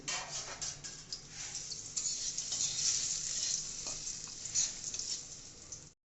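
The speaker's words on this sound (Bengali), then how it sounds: "এরপরে আমরা বড়িটাকে একটু ভেজে নেবো হালকা করে" Bori lentil dumplings lightly frying in oil in a pan for a fish curry, a soft continuous sizzle with gentle stirring and faint ticking spatters, fairly quiet and close.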